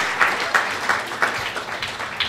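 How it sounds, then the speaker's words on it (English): Applause from an audience after a lecture, with distinct claps landing in a loose, fairly regular beat about three times a second over a lighter background patter, moderately loud and close. "Let's give a round of applause."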